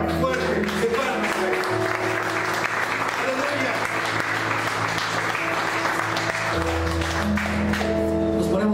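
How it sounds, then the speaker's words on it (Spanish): A church congregation claps steadily and loudly throughout at a worship service, while a voice carries through the dense applause. "Den una ofrenda fuerte de palmas."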